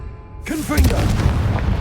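A Confringo blasting spell goes off in Hogwarts Legacy, a sudden broadband burst swelling into a rumbling boom with a loud low-end tail and swooping whistle-like tones layered on top.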